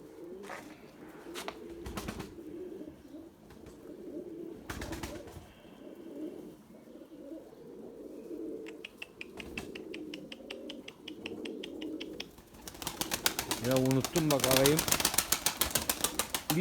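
Pigeons cooing in a loft of breeding birds, with soft repeated coos over a steady background, sharp tapping and clattering in bursts, and a louder patch of calls and flapping near the end; a person talks at times.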